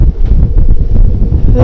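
Strong wind gusts of up to 55 mph buffet high tunnels outdoors, a loud, rough rumbling roar pressing continuously against the microphone, with no voices.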